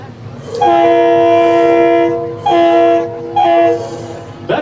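A boat horn sounds from a dock in reply on Lake George, New York, three long harmonic blasts, the first longest, loud and fairly close, with light background noise and no talk over them.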